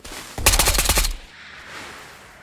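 Rapid burst of gunfire from an automatic weapon in the video game Ghosts of Tabor, a loud close volley of about a second, then a fading quiet tail.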